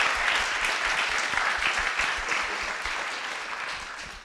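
Audience at a 2025 MT180 / 3MT research presentation final applauds the finalists' talks, a steady broad patter of many hands that fades slightly toward the end.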